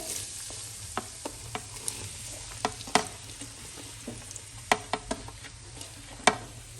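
Chopped onions frying in ghee in a karahi for mutton karahi gosht, a steady close sizzle broken by sharp ticks and clacks of stirring, with no talk.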